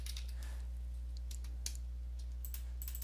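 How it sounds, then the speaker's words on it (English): Keystrokes on a computer keyboard as a web search is typed, a run of quick, light clicks at irregular intervals over a steady low hum, fairly close and quiet, with no talking. "I typed that a little too quick, so let me just type it again"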